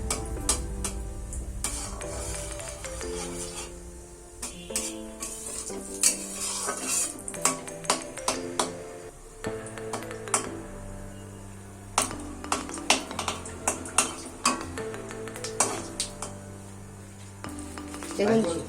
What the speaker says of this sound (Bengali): আমি এখন এই তেলের মধ্যে সামান্য একটু জিরে দিয়ে দিচ্ছি, গোটা জিরে।